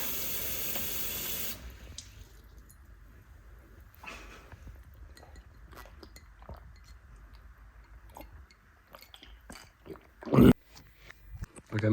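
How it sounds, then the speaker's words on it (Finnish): Water runs from a kitchen tap into a glass in a strong steady rush for about a second and a half, followed by quieter clinks, handling noises and a sharp knock near the end. "Okei, otetaanpa nyt vähän vettä."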